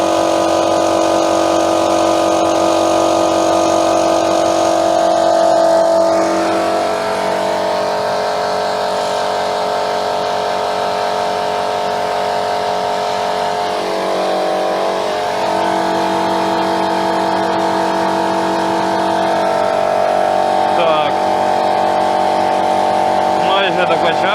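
An INTERTOOL PT-0004 air compressor hums loudly and steadily for a long stretch while inflating a motorcycle tire, a constant mechanical drone, with a voice speaking over it.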